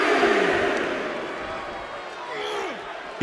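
A wrestling arena crowd roars and cheers steadily throughout a televised match, loud and dense, with a commentator talking over the noise.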